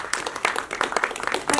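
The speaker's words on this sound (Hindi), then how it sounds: "सर के लिए एक बार जोरदार तालियां" Scattered clapping from a small audience at a Hindi film trailer launch for the director, a few sharp uneven hand claps close by, fairly light and brief.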